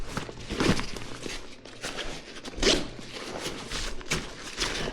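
Zippers on a VIKTOS Perimeter 40L backpack are pulled open in several quick rasping strokes, close and fairly loud, with fabric rustling between them.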